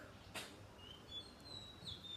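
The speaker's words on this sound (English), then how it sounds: "listening to birds and to the wind" Birds sing in a garden in Bangkok, quiet scattered chirps and short whistled calls over a faint breezy background.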